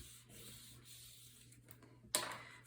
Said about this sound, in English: Then I'll open this back up and burnish it really well from the inside.